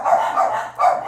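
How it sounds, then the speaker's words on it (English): Dogs barking in short, repeated bursts, several fairly loud barks close by with a brief lull between groups, no talking. "the dogs are getting amped up"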